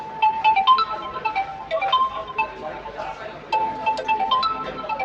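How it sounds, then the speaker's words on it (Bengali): A melodic phone ringtone plays loudly through a Realme phone's bass-boosted loudspeaker, a bright tinkling tune with repeating notes. "জাস্ট রিংটংটা একবার শুনবেন বেস বুস্টের সাউন্ড স্পিকার"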